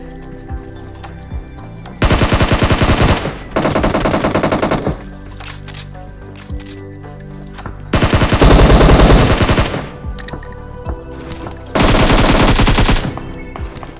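Loud automatic gunfire fills a battle royale video game. Four sustained rapid bursts each last over a second, separated by quieter gaps of game ambience, with no talking.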